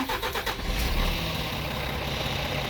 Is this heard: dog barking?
no